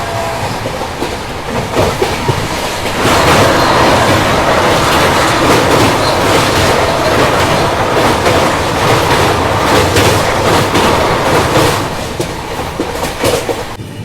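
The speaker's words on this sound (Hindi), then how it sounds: "देखो अभी सामने से आ रही है क्रॉसिंग के लिए न्यू जलपाईगुड़ी गुवाहाटी वंदे भारत एक्सप्रेस।" A Rajdhani Express rolls at speed past the oncoming New Jalpaiguri–Guwahati Vande Bharat Express, probably on a bridge, giving a loud, dense roar with rapid clickety-clack of wheels over rail joints that swells and holds for several seconds.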